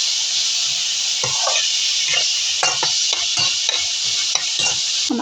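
Onions lightly browning in a pan while being stirred give a steady, loud sizzle, with repeated scraping strokes of a spoon against the pan layered over the constant frying hiss.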